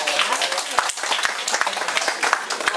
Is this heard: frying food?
no